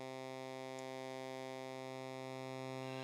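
A Pittsburgh Modular Local Parks oscillator plays a square wave with its pulse core switched: one steady, buzzy, harmonically rich tone that holds at an even loudness throughout, with nothing else around it.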